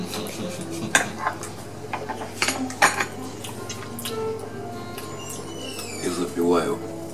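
Fork clinking against a plate while eating sushi rolls, with a few sharp light taps and scrapes scattered through the clip under ongoing talk and room noise.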